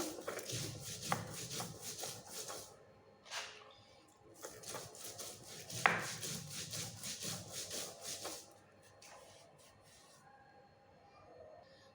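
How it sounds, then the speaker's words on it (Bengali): Mustard seeds ground by hand on a stone grinding slab (shil-nora), a steady gritty scraping that rises and falls in repeated strokes, close and fairly loud, before fading out at the end. "আমি শিলনোড়া দিয়ে বেটে নিচ্ছি।"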